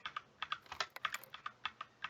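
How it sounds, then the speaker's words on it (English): Fingers tap out quick, uneven bursts of clicks on a computer keyboard, close and fairly quiet, with small pauses between runs of keystrokes and no talking. "I'm typing."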